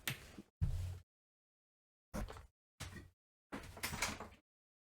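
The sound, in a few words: door being opened after a knock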